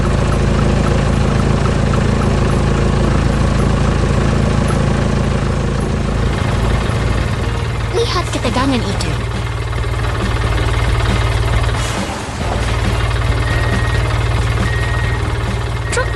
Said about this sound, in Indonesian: Ekskavator dan truk sampah bersiap membantu mesin gilas yang terjebak tadi.